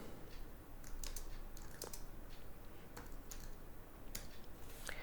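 Someone is typing on a computer keyboard, with sparse, soft key clicks in short bursts against a quiet background hiss, recorded close but faint.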